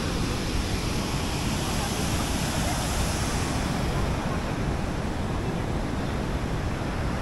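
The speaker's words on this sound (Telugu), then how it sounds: "మన బోగాతా వాటర్ ఫాల్స్." Bogatha waterfall roars as a steady, dense rush of falling water, loud and close, holding unbroken for the whole stretch.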